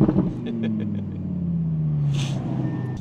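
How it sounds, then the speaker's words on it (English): An Audi RS3 car drives past, a steady engine rumble with a slowly falling pitch as it goes by at moderate distance, under light background noise. "Oh, that was a nice RS3 right there"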